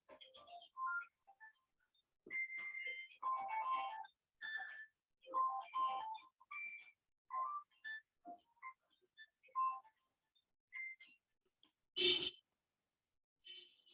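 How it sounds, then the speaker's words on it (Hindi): A mobile phone rings with a repeating electronic ringtone melody of short tonal notes, faint and alone in a quiet room, ending with a brief louder burst near the end. "1 मिनट, फोन आ रहा है।"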